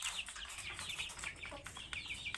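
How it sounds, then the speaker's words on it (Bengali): Layer hens on a poultry farm cluck and chatter in a busy, continuous flock chorus of overlapping calls at moderate distance, with no voices present. "লাইজা মুরগি কী লেভেলের লাইজা মুরগি দেখেন"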